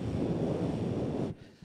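A performer's voice imitates the rush of wind, a loud, steady breathy roar that holds for over a second before dropping away abruptly.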